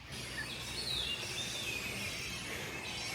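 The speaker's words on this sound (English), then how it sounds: "A bit of bird song there." Birds chirp and sing outdoors near a creek during a spell of extreme summer heat, a few faint high calls over a steady broadband hiss of ambient noise.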